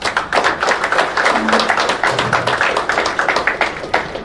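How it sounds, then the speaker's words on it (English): An audience at a government event in Goa, India, marking the opening of a public ART fertility centre, breaks into loud, dense applause, with many hands clapping close by in a steady patter and no talking over it. "our sir needs a big applause."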